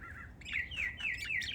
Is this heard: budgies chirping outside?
yes